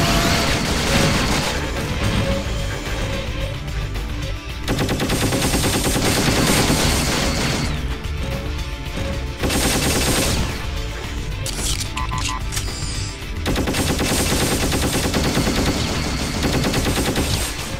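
Sustained, dense gunfire from the shooter Shadowground's Emicron Research Base level, loud continuous automatic bursts with brief pauses near 4.5 and 10 seconds, no talking over it.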